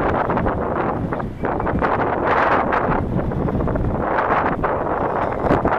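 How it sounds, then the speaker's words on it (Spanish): Strong, cold wind buffets the microphone outdoors on rural horse-country land near Chascomús, Argentina, a loud continuous roar with gusting rumble and no speech. "Estamos con un día ventoso y de mucho frío."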